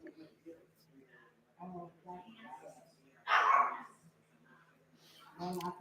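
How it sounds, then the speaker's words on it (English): A dog gives a sharp bark with some whimpering yips among people talking indoors. The bark stands out briefly as the loudest moment above the ongoing conversation. "Nobody seems to really care that the dog's making any noise but me"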